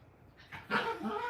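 A dog named Journey gives a big yawn that rises into a short, whining howl, starting as a breathy wheeze and swelling into a wavering vocal tone, close by and moderately loud.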